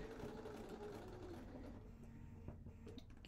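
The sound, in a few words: sewing machine stitching fabric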